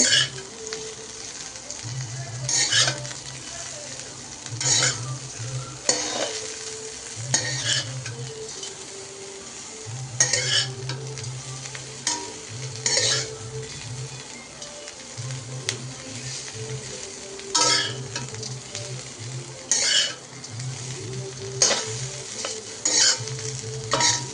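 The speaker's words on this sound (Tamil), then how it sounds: "நல்லா வறுத்துட்டு இந்த மாதிரி ப்ரௌன் கலரில் வரும் பாருங்களேன்" Cauliflower fries in a pan with a steady sizzle, while a spoon stirs it in repeated scraping strokes that come in regular bursts over the constant crackle.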